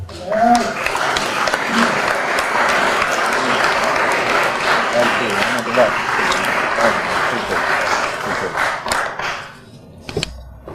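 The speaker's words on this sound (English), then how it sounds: "how about another round of applause for Andre and all the guest speakers out here" Sustained applause from a large conference audience, dense steady clapping with voices mixed in, holding strong for about nine seconds before thinning out to a few last claps.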